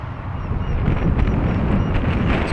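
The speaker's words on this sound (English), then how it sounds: "It's quite a strong gust down here." Steady, heavy 17 mph wind buffeting a microphone, a low roaring rumble that barely lets up for the whole stretch.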